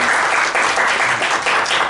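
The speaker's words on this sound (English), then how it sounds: "join me in thanking once again Olaf with a round of applause." A crowd claps steadily and loudly, dense applause filling the whole moment with no voices over it.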